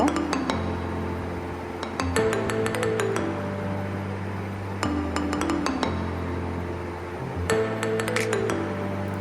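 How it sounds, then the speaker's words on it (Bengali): Mustard seeds being ground on a traditional stone slab with a grinding stone (shil-nora), giving rhythmic clacking and knocking strokes of stone on stone in repeated bursts every couple of seconds, close and fairly loud. "আমি শিল শিলনোড়াও বলি আবার বাটনাও বলি শস্যটাও বেটে নেব"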